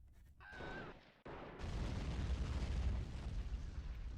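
Artillery explosions in a WW1 trench-warfare strategy game set in Belleau Wood: a sharp blast followed by a long, loud, sustained rumble of barrage fire with no voices.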